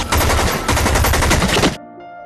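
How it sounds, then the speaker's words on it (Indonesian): Automatic gunfire from a film shootout roars in a loud, rapid, continuous burst at close range, then cuts off abruptly into a low ringing tail. "terjadilah baku tembak di antara mereka semua"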